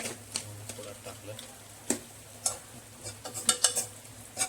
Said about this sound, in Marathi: ते परतून घ्यायचा मसाला.